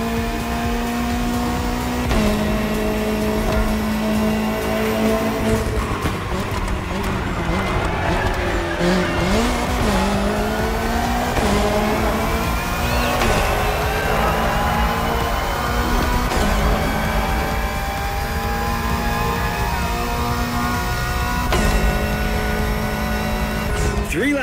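Race cars lapping in a touring race in The Crew Motorfest, with loud, continuous engine roar, shifting revs and repeated tire squeals, and a voice talking over the racing.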